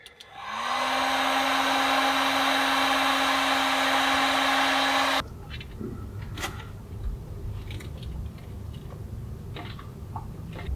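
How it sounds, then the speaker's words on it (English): A heat gun, used on a boat while fitting a washing machine part, starts up and blows hot air in a loud, steady whirring roar for about five seconds, then cuts off abruptly, leaving quieter background clatter. "I'm cheating and using the heat gun to make it fit easier."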